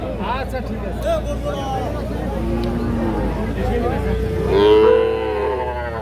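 Young bull calves low and moo repeatedly at a busy cattle market, several overlapping calls rising over the steady murmur of a crowd, with a loud drawn-out moo near the end and people talking throughout.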